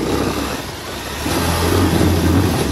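Motorcycle engine revving on a village road, a close, loud mid-pitched engine note that swells and rises in the second half, with no voices over it.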